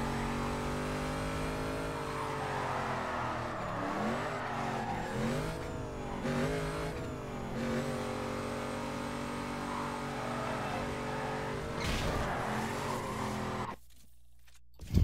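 A car drifting in Need for Speed Carbon, its engine droning and revving while tires squeal and skid through long slides, then cutting out abruptly near the end.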